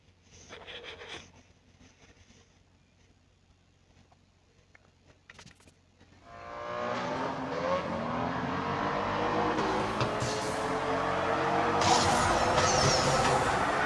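A Mercedes 190 E Evo II race car in a racing game, engine roaring loud and steady from about six seconds on after a quieter start, sustained high revs with shifting pitch.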